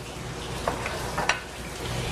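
Food sizzles steadily in a hot pan in a restaurant kitchen, a constant close frying hiss with a couple of brief clicks or scrapes from stirring.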